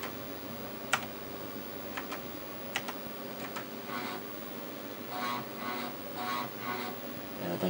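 Keys are pressed on a Tandy 1000 SX computer keyboard: a few scattered crisp clicks, then a run of softer rhythmic taps, fairly quiet and close, with no speech.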